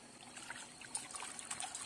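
Water trickles and splashes faintly while food is rinsed in a rural kitchen during preparation of braised pork belly with preserved mustard greens, a soft, continuous running stream with small irregular spatters.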